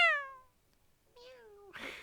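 A cat meows twice in the visual novel game Heart Cage, a clear loud first mew then a softer drawn-out one, followed by a brief rustling noise.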